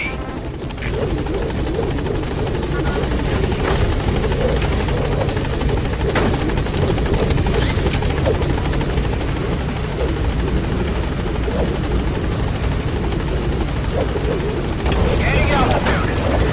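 The Pequod helicopter hovers at a landing zone in Metal Gear Solid V: The Phantom Pain, its loud, steady rotor drone and engine whine filling the scene continuously, with faint voices underneath.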